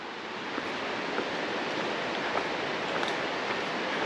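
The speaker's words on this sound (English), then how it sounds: "You can hear some water cascading down there." Water cascading down a slope along the Twentymile Loop Trail in the Smokies, a steady broadband rush heard at a moderate distance, continuous and without pauses or voices.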